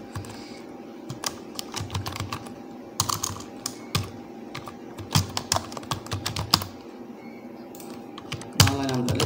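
A name being typed on a computer keyboard while filling in a job application form, with bursts of close, quick key clicks separated by short pauses and a heavier clatter near the end.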